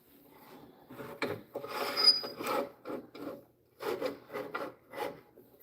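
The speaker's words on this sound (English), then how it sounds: "I'm going to sand one side." A wooden piece is sanded by hand in a series of rasping, scratchy strokes, close and moderately loud, with brief pauses between bursts of rubbing.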